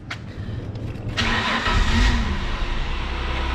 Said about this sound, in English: let's fire this thing up and do a walk around. Let her warm up for a minute.